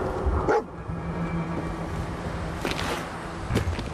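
Dogmeat, the dog companion in Fallout 4, gives a few short barks and yips in bursts over steady game background noise, with no talking.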